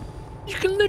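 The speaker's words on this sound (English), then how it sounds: "You can literally hear the brake is still on that car." In the Derail Valley train game, a rail car drags along with its brake still applied, giving a brief steady squeal that rises over a low rumble near the end of the moment.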